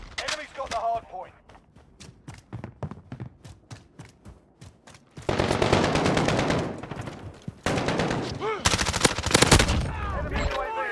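Gunfire in Call of Duty: Modern Warfare, with sharp, separate shots popping in a quick irregular rhythm, then dense sustained bursts of automatic fire later, while a voice speaks in the background.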